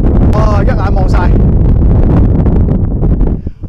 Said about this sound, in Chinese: 好大风啊，今日。